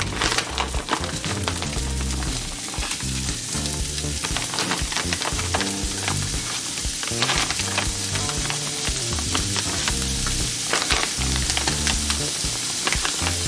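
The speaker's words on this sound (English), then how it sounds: "Now we're gonna fry down the chorizo." Chorizo fries in a hot pan with a loud, continuous sizzle and crackle, mixed with regular clinks and scrapes from stirring, during breakfast cooking for a loaded omelette.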